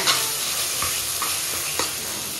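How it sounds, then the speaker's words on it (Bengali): Onions frying in a pan over a low gas flame, a steady close sizzle with a few soft scrapes of stirring and no voices. "গ্যাস আস্তে দিয়ে করছে। পেঁয়াজটা কষতেই গলে গেল পুরো।"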